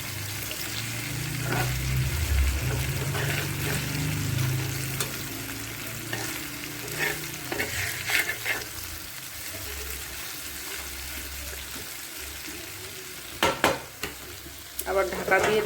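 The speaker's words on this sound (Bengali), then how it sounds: "এক সাইড ভাজা হয়ে গেছে, এখন ধীরে ধীরে আমি উল্টায় দেবো।" Small fish frying on a flat iron griddle and being turned over, giving a steady close sizzle with a low rumble early on and a few sharp scrapes and clicks from the turning near the end.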